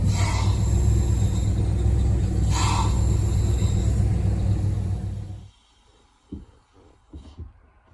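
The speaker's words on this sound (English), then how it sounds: "you got that hissing noise until all the vacuum is out of the booster" A Ford OBS truck engine rumbles steadily, then cuts off, leaving a faint vacuum hiss from a leaking brake booster with a few soft clicks and thumps afterward.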